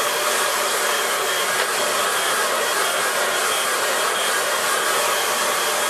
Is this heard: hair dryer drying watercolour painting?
yes